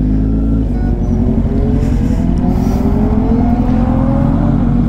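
Several superbikes, a Hayabusa among them, accelerating on a highway during a Sunday group ride: a loud, steady engine roar with rising pitch sweeps as the bikes speed up, continuous and close, with no talking.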